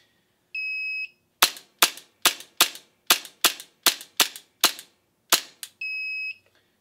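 A Coolfire trainer pistol dry-fires at home targets: a long electronic start beep, then eleven quick sharp clicks in a fairly even rapid rhythm with a short pause before the last two, ending with another steady beep.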